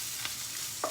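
Onions roasting in a pan, a steady close sizzle with two short spoon scrapes.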